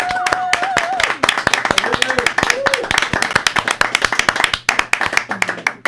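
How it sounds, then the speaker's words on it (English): Audience applause for a female co-host on a singing-themed show: dense, close hand claps in a steady rapid patter lasting several seconds, with a voice speaking briefly near the start. "Can we give her a round of applause?"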